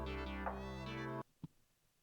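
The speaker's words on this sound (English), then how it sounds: "the cat on the screen meows" A single drawn-out cat meow sounds alone in a video game, with a long clear tonal cry that cuts off abruptly and is followed by a brief soft click.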